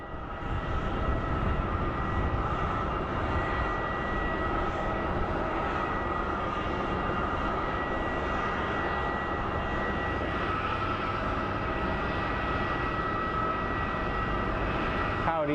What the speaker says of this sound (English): our next plane that's arriving is an A319 coming out of Milwaukee. It's American Airlines 464, followed by a 737 MAX coming from JFK